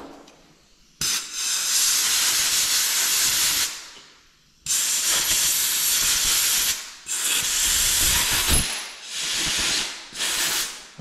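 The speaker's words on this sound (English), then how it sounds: "we'll shoot some air to that" A Graco TrueCoat 360 paint sprayer shoots air in loud, harsh hissing bursts, several long blasts separated by short pauses, with no talk.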